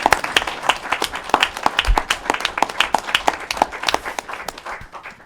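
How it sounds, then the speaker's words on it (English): A smaller audience applauds at a government announcement ceremony, with sparse, distinct handclaps in an uneven rhythm, close and moderately loud, lasting throughout without speech. "Let's give them a round of applause."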